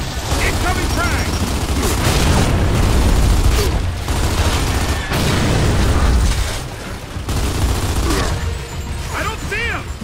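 A frag grenade blast in Gears of War 2 on Xbox 360 booms loudly amid heavy gunfire and battle noise, with soldiers shouting and talking over the combat.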